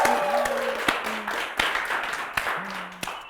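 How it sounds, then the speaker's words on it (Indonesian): Small group clapping on an informal talk-show set, a few sharp separate claps and light scattered applause, fairly close, with a low voice-like tone drifting underneath. "Tepuk tangan."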